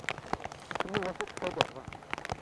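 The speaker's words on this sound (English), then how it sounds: "We can hear it indeed on the windows of the commentary box as well." Rain pattering on the windows of a commentary box during a wet motorcycle road race session, a dense, steady patter of small taps under overlapping talk.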